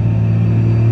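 A 600bhp tuned Toyota GR Yaris with a 7-speed Kutek billet sequential gearbox, a loud steady low engine drone with a deep rumbling hum heard from inside the car, brief and unbroken.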